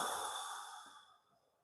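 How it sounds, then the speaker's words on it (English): Breath out through the mouth during a seated chair exercise for seniors: one long, close, breathy exhale that starts strong and tapers away over a second or so, alone without talk. "And breathe out through the mouth and relax"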